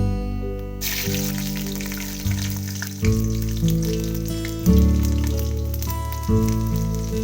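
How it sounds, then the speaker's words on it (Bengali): Garlic cloves dropped into hot oil with black cumin in a pan for a Bikrampur-style prawn dish, frying with a steady close sizzle. Fresh bursts of spitting come as more pieces land, under a low background hum. "এবার দিচ্ছি কয়েক কোয়া রসুন"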